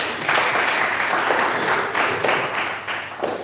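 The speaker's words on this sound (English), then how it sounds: "Please, can we give them a big hand clap for that?" An audience at an entrepreneur workshop applauds the Union of Manufacturers with a big, steady round of clapping from many hands, sustained and fairly close throughout, with no speech over it.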